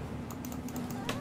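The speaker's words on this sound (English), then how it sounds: "I am clicking that clicker." Quick series of light plastic clicks from a dog-training clicker, faint over a steady background hum inside a video game.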